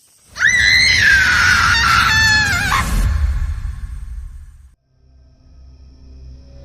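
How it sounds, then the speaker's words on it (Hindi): A woman screams in fright, a loud, sustained wavering shriek that breaks off after about three seconds, followed by a low rumbling background, as a sound effect in a Hindi haunted-house horror story. "तनु की मां की चीख सुनकर अब पिता की भी नींद खुल गई थी।"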